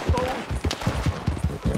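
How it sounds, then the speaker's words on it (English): Rapid bursts of gunfire crack in the Red Dead Redemption 2 video game, shots tumbling over each other in an uneven, fast rhythm at steady loudness throughout. "There's a lot of shooting."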